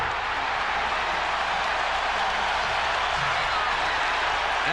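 A basketball arena crowd roars during an NBA playoff game seven between the Chicago Bulls and Indiana Pacers, a dense, continuous wash of cheering and applause filling the whole stretch.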